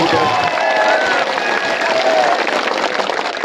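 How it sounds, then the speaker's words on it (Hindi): Crowd applause at an outdoor political speech honoring the elders, a dense, steady wash of clapping and cheering voices that stays loud and continuous throughout. "इनका तालियों की गड़गड़ाहट के साथ एक बार सम्मान आप कर दें"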